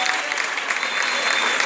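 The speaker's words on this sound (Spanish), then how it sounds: "Fuerte el aplauso para ella también." A dense burst of audience clapping fills a social dance party after the exhibitions, steady and close throughout the short stretch with no break.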